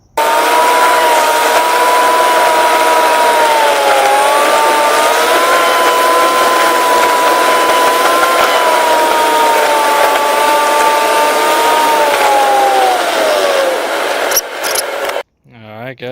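A Nissan S14 drift car engine holds a loud, steady drone that rises and dips slightly as the revs change, running nearly continuously before cutting off abruptly near the end.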